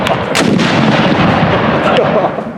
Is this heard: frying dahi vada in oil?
no